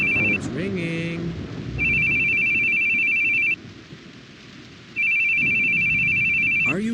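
An electronic phone ring in a video game, The Boogie Man, repeats in long steady tones with pauses between, over low rumbling background noise and a brief voice at the start.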